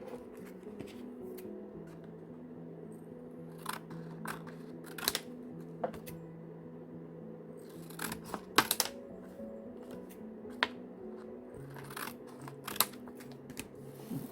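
Scissors snip through paper or card at a quiet craft table, scattered crisp cuts and clicks spread irregularly over a soft background hum, with a denser cluster of snips midway.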